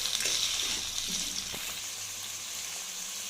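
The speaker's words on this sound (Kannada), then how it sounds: "ಇದನ್ನು ಕೂಡ ಆ್ಯಡ್ ಮಾಡ್ಕೊಳ್ಳೋಣ. ಮತ್ತೊಂದು ಸರಿ ಚೆನ್ನಾಗಿ ಫ್ರೈ ಮಾಡ್ಕೊಳ್ಳಿ." Sliced tomatoes fry in a pan for restaurant-style mushroom sambar, giving a steady close sizzle with a few soft stirring knocks, and no voices.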